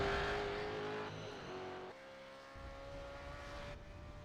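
A V8 Supercar races around the Sandown circuit, its engine note holding a steady high drone with gear-change steps as it moves through turns 2 and 3, loud and continuous with no voices.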